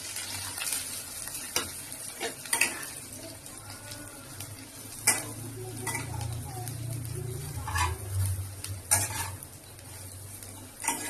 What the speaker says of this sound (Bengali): ভালো করে ঘি দিয়ে ভাজতে হবে।